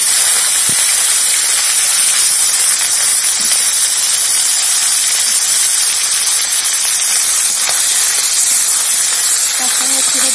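Minced chicken dropped into hot oil with bay leaves and cumin sizzles with a continuous bright, hissing spatter, loud and close, with a few faint clinks.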